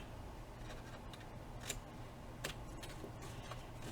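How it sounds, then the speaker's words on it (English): Quiet scissors snipping paper squares for a handmade memory album journal, a few brief cuts close by over a faint background hum. "And we're going to cut these squares out"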